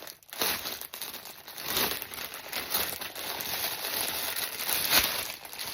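Plastic wrapping crinkles and rustles steadily up close, a continuous crackling rustle with no voices.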